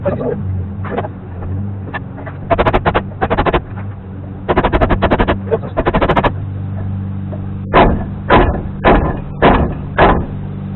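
On a Dana 60 full-floating rear hub held in a vise, a seal puller works a hub seal out of its bore, making bursts of rapid ratcheting clicks, then slower single clunks over a steady engine hum in the background.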